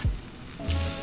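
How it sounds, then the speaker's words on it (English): Garlic sizzles loudly in a paella pan on a beach, a steady crackling fry with a brief stirring clatter, close and alone. "Alright, now we're gonna add our garlic."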